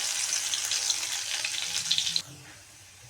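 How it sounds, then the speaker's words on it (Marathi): Garlic frying in oil with cumin and mustard seeds in a wok gives a steady, loud hiss of bright sizzling that drops off sharply near the end, leaving a quieter crackle. "लसूण छान तळला आहे गोल्डन कलर आला आहे लसणाला"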